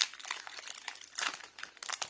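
Plastic and cardboard packaging of Pokémon pin collector boxes being unwrapped, close crinkling and crumpling in quick irregular bursts, fairly quiet with no talk.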